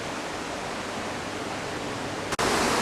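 A fairly large mountain stream flowing beside a hiking trail in Japan, a steady dense rush of water close by, with a brief break near the end.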